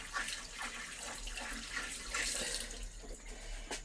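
Tap water runs steadily over tomatoes being washed in a kitchen sink, a continuous splashing gush with no talking.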